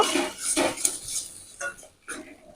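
A utensil scrapes and clinks against a cooking pan in a few short bursts while spices are stirred in, close and fairly sharp with brief pauses between strokes.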